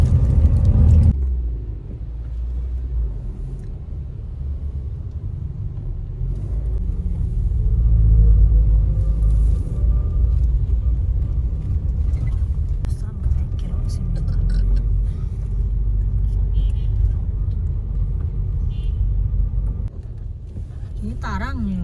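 A car's interior rumble is heard in a night traffic jam at Pangkalan on the road from Padang to Pekanbaru: a steady low drone of engine and road noise throughout, with soft voices murmuring underneath.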